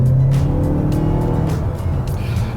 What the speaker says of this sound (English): you can hear that engine note and it just, I don't know, it just doesn't sound big enough for a car this size